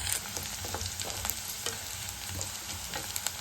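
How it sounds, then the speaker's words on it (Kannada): Dried red chillies fry in a hot pan, giving a steady sizzle with light stirring scrapes and small crackles throughout, close and moderately loud, with no voices. "ಒಣಮೆಣಸಿನ್ಕಾಯಿ ಹಾಕೊಂಡು ಚೆನ್ನಾಗಿ ಫ್ರೈ ಮಾಡ್ಕೊಳ್ಬೇಕು."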